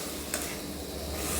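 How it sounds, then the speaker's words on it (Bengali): Water poured into a pan of frying potatoes and spices gives a steady hissing sizzle, with a brief splash early on, close and continuous. "এরপর এটার মধ্যে আমি দিয়ে দিচ্ছি জল।"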